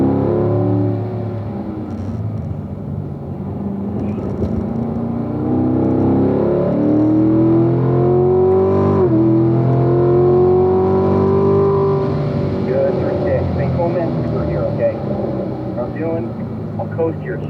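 A Corvette engine on the East track at Spring Mountain drones and drops under braking and compression, then climbs steadily as it accelerates through the corner, with an instructor's voice talking over it throughout.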